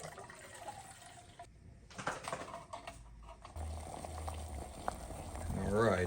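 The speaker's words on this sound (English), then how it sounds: "this is the second boil" Acorns on their second boil in a pot of water to leach out tannins, giving a continuous bubbling and rushing boil with a few knocks and some movement nearby.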